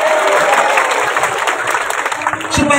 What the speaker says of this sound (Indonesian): Tepuk tangan ke sini dulu.